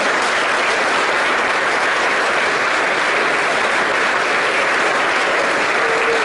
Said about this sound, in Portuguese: Vamos recebê-lo no Senhor, dando a Jesus uma salva de palmas.